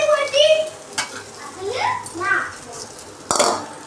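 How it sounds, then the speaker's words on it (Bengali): A ladle stirring gola ruti batter in a pan, soft scraping and sloshing under a woman's speech, with a brief sharper clink near the end. "ঢেলে দিয়ে একটু এরকম করে হাতা দিয়ে নাড়িয়ে দেবে"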